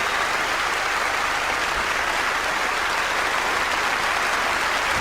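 Sustained applause from a large crowd at the Eurovision Song Contest, a dense, even wash of clapping filling the hall at full strength throughout, with no talk over it.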